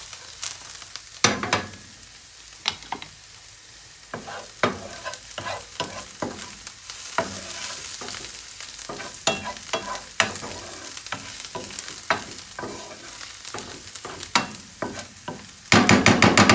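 Mushrooms with persillade fry in a large pan with a soft background sizzle. Frequent sharp clacks and scrapes of stirring land at an irregular pace, and a louder burst of sizzling comes at the very end.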